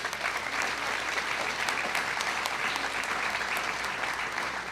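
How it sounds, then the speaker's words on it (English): An audience claps for the children of a county junior fair royalty contest, a continuous, evenly textured burst of crowd applause at moderate volume, with no voices standing out. "How about one more round of applause for these 13 kids?"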